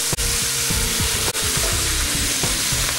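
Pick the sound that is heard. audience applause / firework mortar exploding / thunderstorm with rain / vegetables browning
vegetables browning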